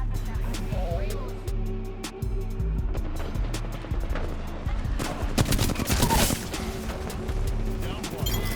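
Video game gunfire crackles in rapid bursts and scattered single shots throughout, mixed with in-game effects, while a person talks over the shooting.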